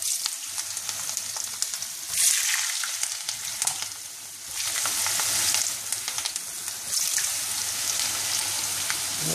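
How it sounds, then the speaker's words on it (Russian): Sliced potatoes fry in very hot oil, a second batch laid in a single layer, giving a dense, continuous close sizzle that swells and eases with a few faint utensil taps; no voices. "Ну и таким образом обжариваем всю оставшуюся картошку"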